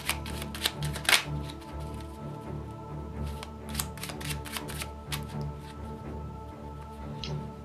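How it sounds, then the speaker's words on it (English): Cards riffled and shuffled repeatedly, crisp fluttering bursts and soft slaps close by, with a steady low hum underneath. "Now I'm shuffling the cards several times."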